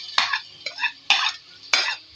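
Crushed onions stirred in hot oil in a pot, with four sharp scraping strokes of a spoon over a soft sizzle, close and clear.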